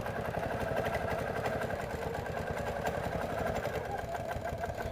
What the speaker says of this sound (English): I'm just going to sew this down, sewing my about 1/4 of an inch seam allowance